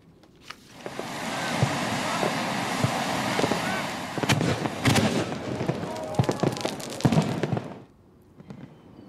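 At the Kawakami Gorge fireworks festival in Saga, Japan, aerial shells and hand-held tezutsu fireworks roar in a continuous hissing spray, broken by sharp bangs and crackling bursts, with crowd voices faintly underneath before it dies away.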